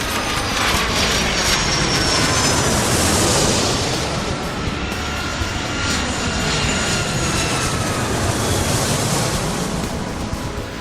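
A loud, steady jet engine roar as an aircraft taxis in the airport game Airport Madness 3, with a broad rushing drone that swells and eases slightly and continues throughout.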